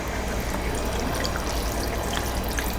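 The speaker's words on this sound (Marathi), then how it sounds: "थोडं पाणी घालते याच्यात" Water poured steadily into a mixer jar, a continuous trickling splash at close range with no talking.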